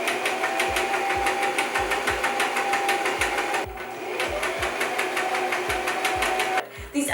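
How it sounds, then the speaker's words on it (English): Sewing machine stitching the sides of fabric together, a close steady rapid mechanical whir with regular clicking, briefly pausing midway before running on. "We are going to sew the sides together."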